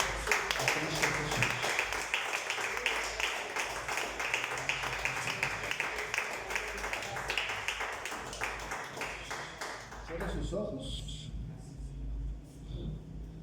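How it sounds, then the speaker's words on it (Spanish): A church congregation applauds loudly at an evening sermon, dense clapping running steadily for about ten seconds before thinning out into a quieter room. "Denle un fuerte aplauso."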